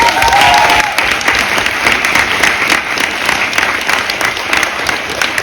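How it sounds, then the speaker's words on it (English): Audience at a people's townhall breaks into loud, sustained applause, dense clapping that starts strong and holds steady with scattered cheers underneath. "Let me give them a round of applause"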